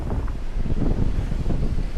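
Strong wind at a beach buffets the microphone, a continuous loud low rumble with rough, fluttering gusts throughout.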